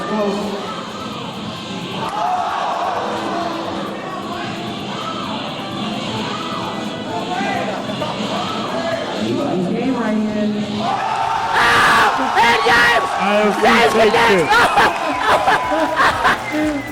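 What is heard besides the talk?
tournament crowd cheering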